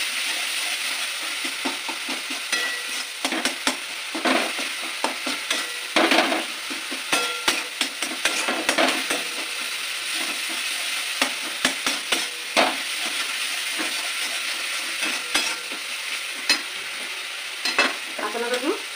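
Whole lota fish curry sizzles in a pan as a spatula scrapes and turns it, with repeated sharp clinks and scrapes over a steady frying hiss.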